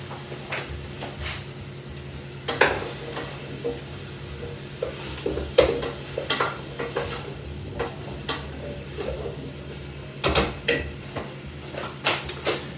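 A spoon stirs rabbit stew ingredients for lapin à la normande in a pan, with scattered scraping and clinking against the metal, several sharper knocks and a soft sizzle underneath, close by and without speech.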